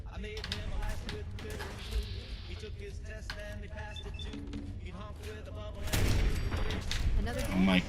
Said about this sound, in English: seems to be some shooting going on